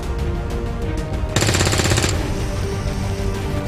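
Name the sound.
gunfire at a Viper in the video game XCOM 2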